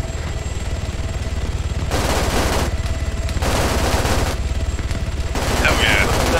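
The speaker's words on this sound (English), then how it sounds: "I want to strafe it real quick." Rapid helicopter gunfire from a strafing run in ArmA 3 comes in several loud sustained bursts separated by short gaps, over a constant rotor rumble.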